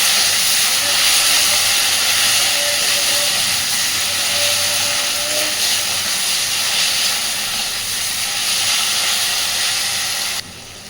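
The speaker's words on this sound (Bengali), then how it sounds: "আলুর সাথে মশলা সুন্দর করে কষে নেব" Spices sizzle and fry with potatoes in a pan for an eel curry, a steady broadband hiss that holds loud and even, then drops off abruptly near the end.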